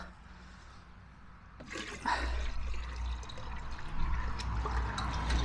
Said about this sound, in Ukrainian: І влию трошки води, щоб риба звикла.